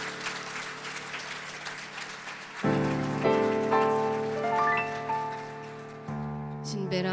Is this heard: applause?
yes